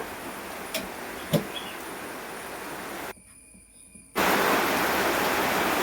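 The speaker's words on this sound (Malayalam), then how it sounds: "ഇവിടെ ഭയങ്കര മഴയാട്ടോ നല്ല മഴയുണ്ട് ഇവിടെ" Steady, dense hiss of heavy rain, briefly dropping out for about a second before returning louder and fuller; no voices.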